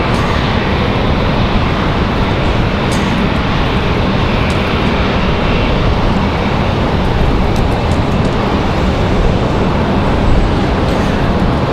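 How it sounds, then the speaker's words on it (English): American Airlines Boeing 737-800 arriving from Dallas at Raleigh-Durham International, a loud, dense continuous jet roar with steady broadband rumble and a few faint ticks, no speech. "American Airlines 711 from Dallas. 2 hours, 3 minutes for that 737-800."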